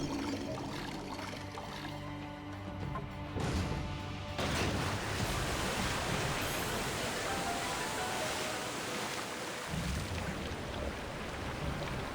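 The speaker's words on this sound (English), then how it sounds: "Now we have successfully drained the water" Water drains in Okami, starting with a mechanism-like tonal passage, then turning into a broad, continuous rush of pouring water. The rushing stays steady and fairly loud for several seconds, with no speech.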